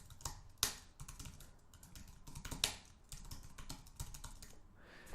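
Close, quiet typing on a computer keyboard, a steady run of light key clicks with a few sharper taps, with no talk.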